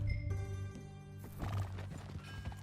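Horse hooves clip-clop beside a whinnying neigh from a horse in the video game Red Dead Redemption 2, steady and close over a sustained musical tone.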